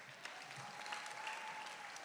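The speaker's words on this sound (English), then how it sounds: "So give yourselves a round of applause." Graduation audience clapping steadily at a 2021 high school commencement, a dense, even wash of applause heard from a distance and fairly faint.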